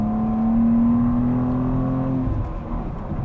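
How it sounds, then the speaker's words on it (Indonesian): BMW M2 G87 with a manual gearbox and a 3.0-litre six-cylinder engine, roaring under acceleration, loud and close from inside the car, with a steady rising tone that eases off near the end. "Ya ini raungannya tuh masih mirip banget sama BMW M lama gitu."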